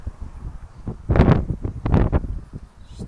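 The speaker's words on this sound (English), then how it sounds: "It's just so windy." Strong gusts of wind beside a pond while fishing buffet the microphone in two loud rumbling bursts, with gentler rustling between them.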